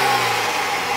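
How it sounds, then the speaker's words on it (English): A 2016 BMW X3's turbocharged six-cylinder engine drones loudly at high revs, a steady mechanical roar sustained for a brief moment with no voices. "So, have Trish give it a little bit of revving."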